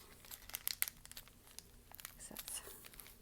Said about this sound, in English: See if I can get this tape off of here.